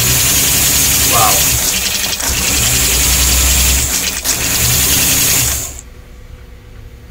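A damaged 1947 #312 engine, repaired after shipping, runs at a steady, loud idle with a fast rhythmic clatter, then drops away near the end, while voices speak over it.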